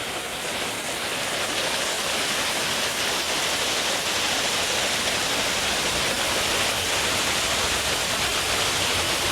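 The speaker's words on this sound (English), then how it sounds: "Just enjoying the nice sounds of the waterfall." Waterfall in a Las Vegas hotel pool area: a loud, continuous rush of falling water, close and steady for the whole stretch, with no voices over it.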